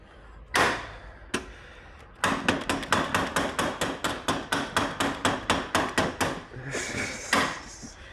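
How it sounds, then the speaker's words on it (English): A hammer strikes a rusted-on Honda motorcycle ignition lock: a few separate blows, then a rapid, steady run of sharp metallic hits at close range, alone. "shouldn't be hitting that with a hammer"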